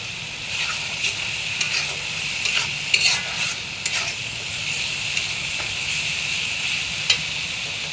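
Fish curry with onion paste sizzling in oil in a pan, a steady bright hiss of frying with occasional stirring scrapes close up, continuous throughout.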